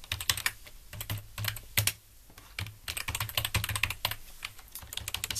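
Close, crisp typing on a computer keyboard, rapid bursts of key clicks separated by short pauses, with no voices.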